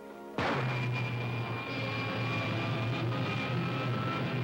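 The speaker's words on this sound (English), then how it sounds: "Fire pilot jets" Rocket pilot jets igniting with a sudden blast that settles into a sustained loud roar with a steady low hum and hiss, continuing unbroken to the end.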